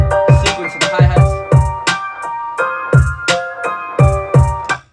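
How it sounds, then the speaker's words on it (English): Electronic beat with punchy kicks, a melodic synth line and a switched-up hi-hat pattern ticking over it, loud and rhythmic in a steady loop. "then you switch into the other sequence of the hi-hats"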